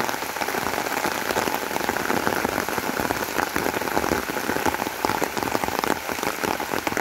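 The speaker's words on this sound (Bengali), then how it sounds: "বৃষ্টি হচ্ছে ফসলের মাঠে" Steady, dense rain pours onto open crop fields in a Bangladeshi village during autumn, a continuous close hiss of countless drops with no voices and no letup.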